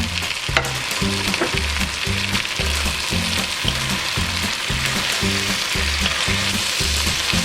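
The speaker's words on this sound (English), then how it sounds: "beef and bacon that we had set aside earlier and add it to the onions and carrots" Beef and bacon frying in a pan with onions and carrots, a steady loud sizzle with rhythmic stirring scrapes throughout.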